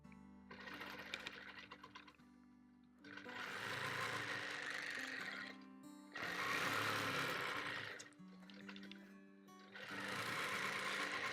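A sewing machine stitches quilting fabric in four bursts of rapid, steady whirring separated by short pauses, close and clear with no talk.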